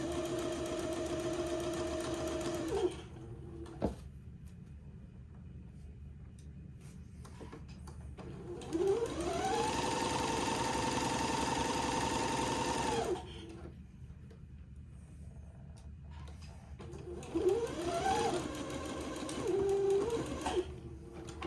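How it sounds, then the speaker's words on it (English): Sewing machine running a seam in purple thread, pins pulled as it goes: steady motor whir in a few separate bursts with short pauses between, the speed rising and falling with each run. "I got my purple thread in here still, so I will sew this seam"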